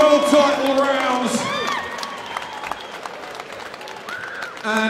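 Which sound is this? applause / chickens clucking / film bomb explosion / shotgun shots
applause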